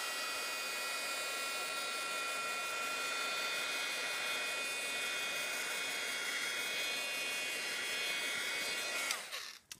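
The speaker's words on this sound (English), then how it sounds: "I'm going to heat emboss." A heat embossing tool blows hot air over stamped ink with a steady, close hiss and whir that runs for about nine seconds before cutting off abruptly near the end. No voices are heard.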